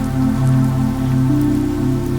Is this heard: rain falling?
yes